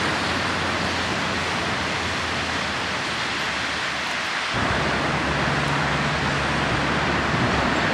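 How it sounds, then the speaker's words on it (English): Surf rolling onto the seafront in Lima, Peru, a steady broadband roar of breaking waves that swells slightly partway through, continuous and fairly loud with no voices. "So there's some nice waves here for surfing."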